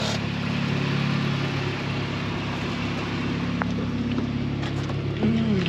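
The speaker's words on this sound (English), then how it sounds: "John's super sweet Civic, it's supercharged, so it has all the cool Hellcat noises with the fuel economy of a Honda Civic" Idling supercharged Honda Civic engine, a steady low rumble with a faint rise near the end, heard close and alone.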